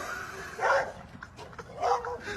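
A guard dog barks and yips in two short bursts, medium-near, over steady background noise with faint mixed sound.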